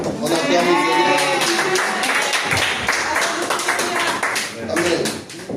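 A church congregation claps and cheers in praise, dense applause with voices calling out over it, loud and close throughout.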